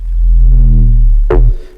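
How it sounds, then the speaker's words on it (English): A synth bass built from a square wave fed through a scream filter, its automated cutoff adding resonance: a loud, buzzing sustained note that snaps into a bright, rising filter sweep before cutting off. "It's a square wave, again, put into a scream filter for just some extra resonances"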